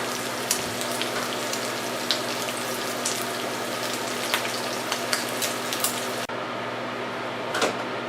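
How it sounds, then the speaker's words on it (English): Onions and garlic sauté in a pan with a dense, steady hiss close by, dotted with light crackles and a couple of stirring scrapes. "next thing I'm going to do is saute the onions and garlic"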